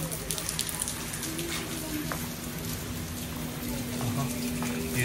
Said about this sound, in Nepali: यहाँ चाहिँ पानी पर्दैछ